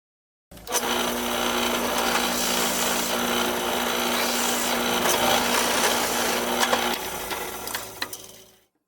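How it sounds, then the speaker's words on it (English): A steady, grinding whir of a drill press boring into wood with a 3/4 inch Forstner bit, holding at one level for several seconds before winding down, with no voices. "bring it over to the drill press and use a 3/4 inch Forstner bit to core out the material"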